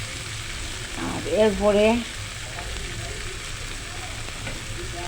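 Leafy greens fry in hot oil with panch phoron and ginger, giving a steady close sizzle throughout, with a short burst of speech partway through.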